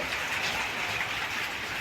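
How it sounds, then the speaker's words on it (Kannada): Heavy rain pours down in a steady, unbroken hiss, moderately loud, with no voices. "ಮಳೆ ಇದೆ ನೋಡಿ"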